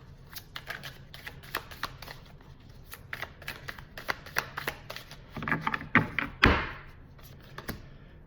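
Wonderland tarot cards handled and shuffled close by in a quiet room, a long run of soft rapid taps and flicks with a few louder thumps near the end.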